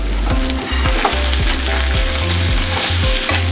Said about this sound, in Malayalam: ഇനി ഞാൻ ഇതൊന്ന് ഇളക്കി കൊടുക്കാൻ പോവുകയാണ്